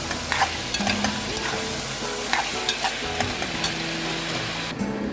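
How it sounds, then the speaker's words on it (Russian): Meat sizzles and crackles in a hot pan, with occasional scraping and stirring clinks over the steady frying hiss. "Все варится, жарится, кипит."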